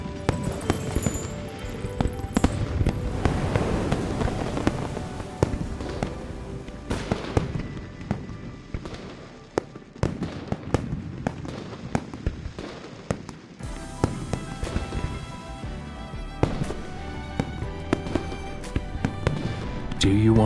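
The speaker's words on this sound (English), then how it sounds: "Do you want to set off fireworks in Hongling City?" Fireworks set off in Hongling City in the Love and Deepspace video game, a dense run of bangs and crackles with bursts throughout, loud and continuous, with speech over parts of it.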